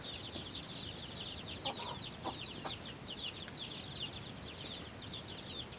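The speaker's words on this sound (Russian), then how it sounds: "Куры первый раз пробуют помидоры." Chickens tasting rotten tomatoes for the first time give soft, fairly distant clucks and a busy stream of high chirping calls. A few louder clucks stand out over the low background noise.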